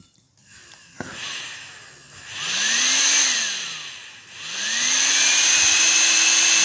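A heat gun motor runs on a bench test with a loud airy blower roar that surges, dips and surges again as the motor whine sweeps up and down in pitch. A sharp click comes near the start.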